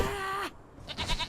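Goat in the game Conan Exiles lets out a single short bleat, with a few soft clicks and rustles of game noise following.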